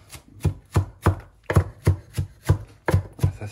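A knife chops an onion on a board with about a dozen crisp, evenly spaced thuds, close and fairly loud, in a quick steady rhythm.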